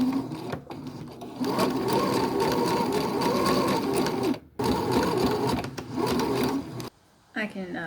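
A sewing machine stitches slippery fabric along a shoulder seam, running in steady, loud whirring bursts with a few brief pauses between them; a voice talks over parts of it.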